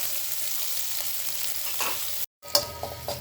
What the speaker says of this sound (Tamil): இப்போ இந்த கடுகு கீரையை பரட்டிக்கலாம்.